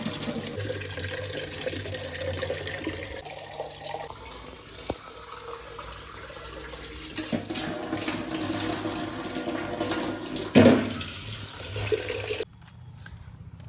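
Water runs steadily from a household tap at moderate, even loudness for most of the stretch, with a brief louder splash late on before the flow stops and leaves near silence.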